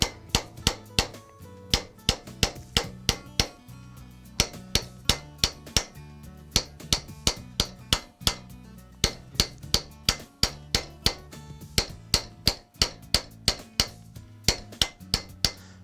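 A hammer strikes a metal bracelet over a steel stake during raising, sharp ringing blows in a brisk, steady rhythm of repeated strikes, close and clear throughout.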